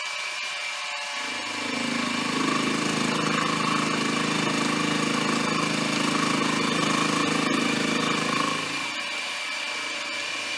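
An end mill on a milling machine cuts a vise speeder part, taking about half a millimeter per pass; a steady, loud machining drone rises after a second and holds for roughly seven seconds before dropping back to the motor hum.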